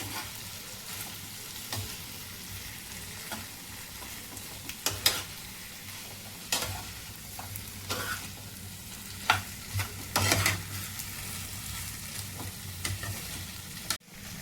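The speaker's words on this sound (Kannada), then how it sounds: "ಎಲ್ಲ ಒಮ್ಮೆ ಈಗ ಚೆನ್ನಾಗಿ ಮಿಕ್ಸ್ ಮಾಡಬೇಕು" Chicken frying with garlic and pepper, a soft steady sizzle broken by sharp scrapes and clacks as a utensil stirs the pan at irregular intervals, close and with no talking.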